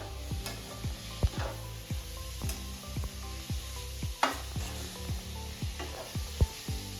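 Coconut and sugar filling for a sweet coconut barfi sizzles in a pan under steady stirring, with regular soft scrapes and taps of the spoon against the pan over a continuous low frying hiss.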